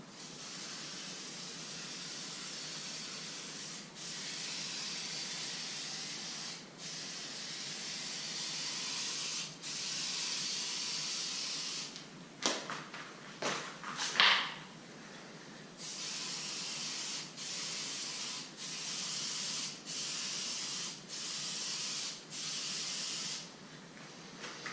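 A spray paint can hissing out paint in long, smooth bursts of steady spray separated by short pauses, close and fairly loud, with a brief sputtering stretch midway and no talk.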